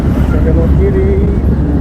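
Busy road traffic rumbles steadily near Ramadhani market in Banjarnegara, a continuous close wash of car and motorbike engine noise with a brief higher engine whine in the middle.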